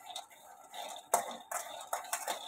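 Peanuts roasting in a pan for sesame laddoos, a utensil scraping and clinking against the metal in light irregular strokes, with faint soft voices in the background.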